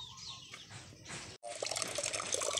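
Water pours into a container being filled for a shower at a rural home in the province, a close, steady splashing flow that briefly stops and then resumes more strongly, with no talking.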